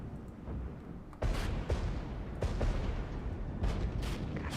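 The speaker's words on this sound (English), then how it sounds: "God damn, it's kind of crazy to see all this mortar fire" Mortar and artillery fire in the war game Regiments booms repeatedly at a moderate distance, several dull impacts standing out over a continuous rumbling battlefield bed.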